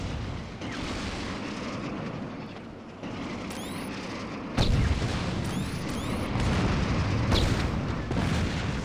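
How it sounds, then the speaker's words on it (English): Gunfire and booming blasts in the video game Saints Row, several sharp reports and heavier thumps over a constant rumbling game background, moderately loud. "Look, they're just randomly shooting at me."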